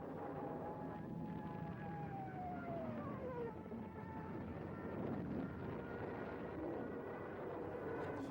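A Stuka dive bomber's rising and falling howl dominates, with steady loud droning and a sliding siren-like wail over wartime noise.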